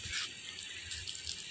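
Water from a pump splashing and running steadily outdoors, a continuous bright hiss of flowing water at close range with no voices.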